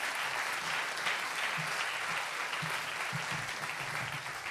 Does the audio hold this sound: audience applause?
yes